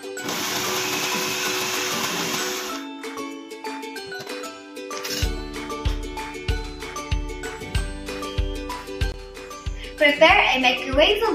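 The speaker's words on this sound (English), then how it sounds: "Keep the carrot and other chicken breast and blend them well together." A kitchen blender whirs loudly for about three seconds while blending carrot and chicken breast for a dog birthday cake, then goes quiet, followed by a steady run of rhythmic thumps and clinks, with a burst of rattling near the end.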